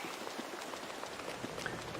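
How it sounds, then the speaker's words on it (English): Steady rain falls in a farming video game set in English weather, a soft, even patter of drops that stays fairly faint and continuous throughout, with no talk. "typical English weather. It's raining in June."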